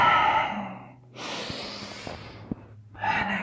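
Slow, deep exhalations during a yoga core and lower back exercise, close and breathy, with a long outbreath, a pause and then another breath starting, plus a few small clicks.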